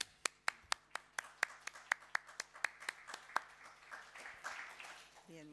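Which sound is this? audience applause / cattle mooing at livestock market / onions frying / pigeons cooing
audience applause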